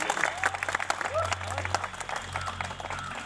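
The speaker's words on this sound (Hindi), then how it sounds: "एगो जोरदार ताली दीजिए।" Audience applause at a college jhijhiya dance program, scattered claps rising and falling under a speaking voice and background music hum, moderately loud.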